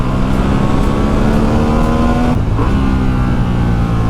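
A Honda Hornet 750 motorcycle with stock exhaust pulls hard in third gear, its engine note holding a steady, loud droning hum with a brief shift of pitch midway, close and without talk.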